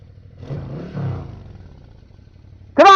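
A motorcycle engine on an evening ride idles low, gives two soft throttle blips, then snaps into a loud, sharp rev at the end.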